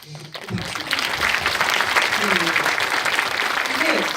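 Audience at a live talk show event in Yongin breaks into steady, full applause that starts after a brief pause and continues evenly to the end, with voices mixed in.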